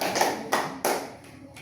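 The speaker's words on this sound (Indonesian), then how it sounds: "tepuk tangan dulu untuk Tian" Classroom applause for a student: a few sharp, rhythmic bursts of group clapping spaced about a third of a second apart, fading quickly.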